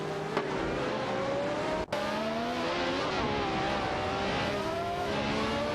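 Race cars in a racing video game jostle and overtake, a continuous droning engine whine with shifting pitch and one abrupt cut, heard alone without any voices.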